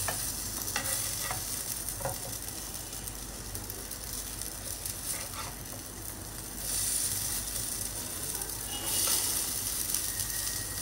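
Batter cooking on a hot pan brushed with ghee gives a soft, continuous sizzle with light scraping and a few faint clinks, steady and close with no talking.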